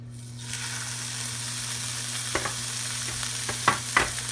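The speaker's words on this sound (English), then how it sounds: "I'm going to put my steaks in, fat side down, so the fat renders down" Thick strip steaks searing fat side down in a hot cast iron skillet at high heat, a steady loud sizzle rising in at the start and holding throughout, with a few soft clicks and pops near the end.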